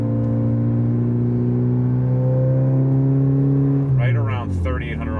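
A Mitsubishi Evo 8 engine with a titanium aftermarket exhaust holds a steady, droning rev for several seconds, then the pitch sweeps and drops as the throttle changes, loud and close.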